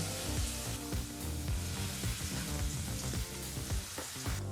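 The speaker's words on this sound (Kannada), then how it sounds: "ಮೂರರಿಂದ ನಾಲ್ಕು ನಿಮಿಷ ಈ ಒಂದು ಮಸಾಲ ಪೇಸ್ಟನ್ನು ಎಣ್ಣೆಯಲ್ಲಿ ಫ್ರೈ ಮಾಡ್ಕೋಬೇಕಾಗತ್ತೆ" Steady, dense sizzling of ground masala paste frying in hot oil over low flame, with occasional stirring scrapes; close and continuous, no voices.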